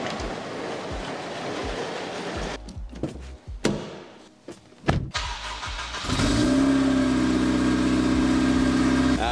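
A Honda Integra engine cranks and catches after some rustling and clunks, then settles into a steady, close idle with a constant hum.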